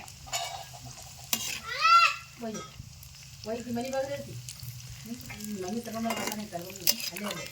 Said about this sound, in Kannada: ಈಗ ಇದಕ್ಕೆ ಶೇಂಗಾ ಬೀಜ ಮತ್ತು ಪುಟಾಣಿ ನೋಡ್ರಿ ಯಾಕಂದ್ರೆ ಇವನು ಫ್ರೈ ಆಗ್ಬೇಕಲ್ರಿ ಎಣ್ಣೆಗ